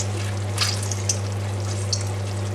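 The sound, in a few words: stirring prawns in a sizzling pan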